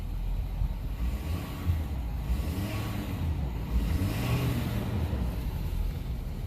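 A 2016 Ford 6.7L diesel pickup with a P0402 exhaust gas recirculation fault rumbles low and steady with mild swells as it is revved, heard from nearby amid some wind noise.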